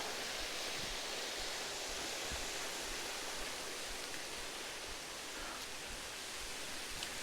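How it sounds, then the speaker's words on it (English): A waterfall of about 30 metres at Bastion Cascades, carrying only a modest flow, makes a steady, even rush of falling water heard from a distance, faint and unbroken throughout. "There's a waterfall."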